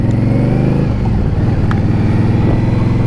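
An Indian Scout Bobber motorcycle engine runs steadily and loud throughout, a deep, even drone with a few brief mechanical ticks, heard close up while riding.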